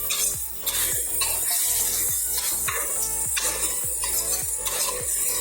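Ingredients being stirred and sautéed in a pan for salted fish balado with palm sugar, a steady sizzle under repeated rhythmic scrapes of a utensil against the pan, close and fairly loud, with no talk.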